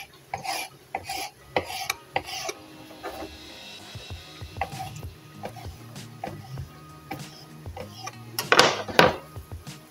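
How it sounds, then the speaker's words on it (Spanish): A knife slices mortadella into strips on a cutting board, with close, short scraping strokes and taps in irregular bursts and a louder rasp near the end, alongside faint kitchen clatter. "Mortadela, la vamos a cortar."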